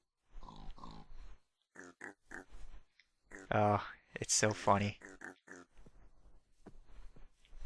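Piglets from a litter of ten grunt and oink in a video game, short snorting calls scattered between bursts of a person talking and laughing.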